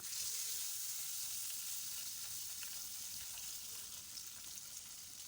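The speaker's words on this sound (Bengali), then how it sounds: "এরপর মাছের লেজটি ভালো করে ভেজে নেব" Steady, crackling sizzle of a fish tail frying in hot oil in a pan, close and continuous throughout.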